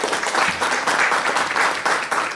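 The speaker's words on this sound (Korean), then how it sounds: "다시 한번 박수 부탁드립니다" A crowd applauds steadily throughout after a keynote at a policy forum, dense clapping with no pauses, fairly close and loud.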